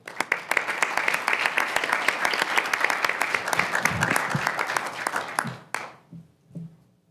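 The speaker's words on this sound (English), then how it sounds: "you should not be clapping for me, you should be clapping for them" An audience at a Raleigh city council meeting gives dense, steady applause for several seconds. It then stops abruptly, and a few quiet murmurs and movements follow in the chamber.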